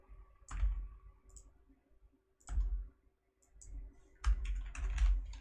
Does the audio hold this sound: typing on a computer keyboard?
yes